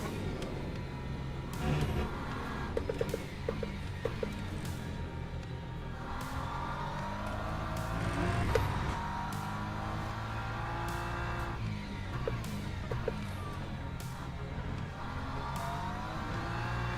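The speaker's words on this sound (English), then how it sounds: "Another LMP3 on his way through." An LMP3 prototype race car in the Le Mans Ultimate racing sim passes with a rising and falling engine note, over the steady drone of the player's own car and some faint tire squeal.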